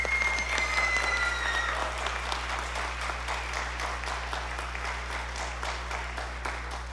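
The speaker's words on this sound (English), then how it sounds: "please give these students a round of applause" An audience at a school spring band concert gives students steady, sustained applause with many clapping hands at moderate distance. A low electrical hum runs underneath, and no voices come through.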